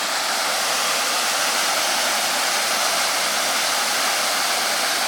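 Fast-flowing water rushes beside the Bijotai water mill with a dense, steady roar that stays loud and unbroken throughout.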